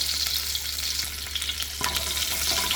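Garlic frying in about a tablespoon of oil in a pot for a Caribbean brown stew chicken, a steady, close sizzle and crackle with a soft stirring scrape partway through. No one speaks.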